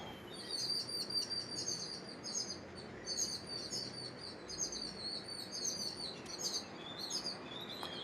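Birds call at a butterfly park where peacocks roam: repeated high chirping calls sound throughout over a steady outdoor hiss, moderately near and fairly even in loudness, with no talking.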